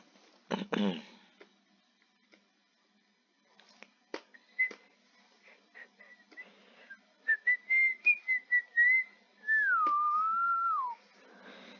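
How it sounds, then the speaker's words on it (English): Close, breathy whistling into a microphone: a few short chirps, then a run of quick notes ending in a longer sliding tone, with faint clicks around it. "Sorry for whistling into the mic."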